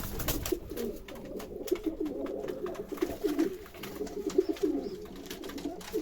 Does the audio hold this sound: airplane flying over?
no